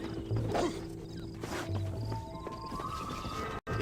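Horse hooves clip-clopping in the Western video game Red Dead Redemption, a steady close trot under game ambience with a brief snort or whinny.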